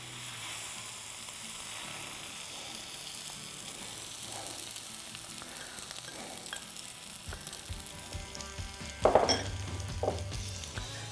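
Four lightly beaten eggs sizzle steadily on a CanCooker conversion griddle, a continuous close frying hiss with light stirring and a brief metallic clank of a utensil near the end.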